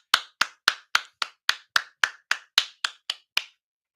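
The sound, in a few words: people clapping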